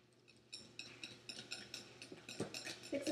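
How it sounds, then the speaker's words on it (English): Eggs being whisked into pumpkin bread batter in a bowl, a steady run of quick, light clinking strokes that grow a little louder toward the end, with no talking. "And throw in your eggs. Just mix that together."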